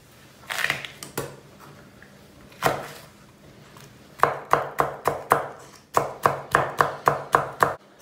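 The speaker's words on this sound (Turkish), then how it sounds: "Soğanını, domatesini, biberini doğradık." Knife chopping onion, tomato and pepper on a cutting board in a kitchen, a few scattered cuts and then quick rhythmic runs of crisp chops, close and clear with no talking.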